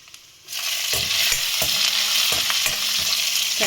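Red chillies hit hot oil with chana dal and peanuts for akki tari huli uppittu, setting off a sudden, loud, close sizzle that holds steady, with a few spoon stirs and taps against the pan.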